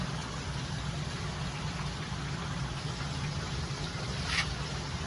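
A steady whooshing blower hum from a Samsung 16 kg heat-pump clothes dryer runs continuously at a moderate level, an even, unbroken mechanical drone with no voices.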